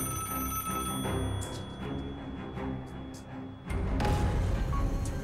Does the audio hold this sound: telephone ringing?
yes